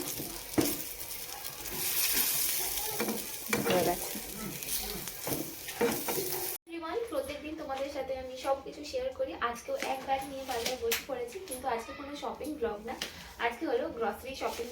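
Chicken kosha and chicken kebab sizzle side by side in pans, with a steady frying crackle, occasional stirring scrapes and a voice talking over the cooking.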